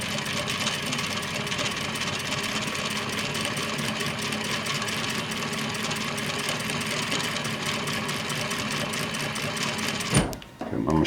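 A home sewing machine set to a slow speed chugs along steadily for several seconds, its motor hum and repetitive needle strokes close up, before stopping abruptly near the end.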